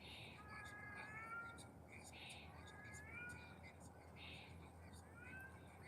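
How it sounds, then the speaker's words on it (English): Cat meowing repeatedly in the background, several drawn-out rising and falling cries, faint and distant, interleaved with quiet talk from a nearby man. "Damn, that cat loud."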